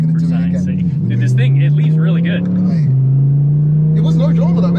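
A 1400-horsepower Audi R8 accelerating hard on a 0-60 run, its engine holding a loud, steady drone that dips briefly at two gear shifts, with people talking over it.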